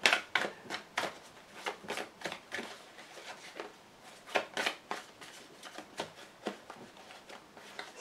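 Lenormand oracle cards being shuffled by hand, a quiet, close series of rhythmic riffling flutters and soft slaps repeating steadily throughout.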